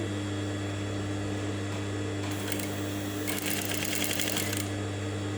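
Sewing machine stitching fabric guided by a magnetic seam guide, a constant motor hum with two bursts of rapid needle chatter, the second longer, heard close with no speech.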